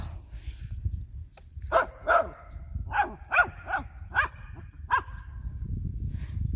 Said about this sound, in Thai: โอ้ยเห่างู